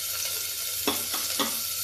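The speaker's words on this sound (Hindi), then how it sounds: "प्याज भून लेते हैं।" Onions fry in oil with spices in an Indian home kitchen, giving a soft, steady sizzle. Two short stirring scrapes stand out over it. No one speaks.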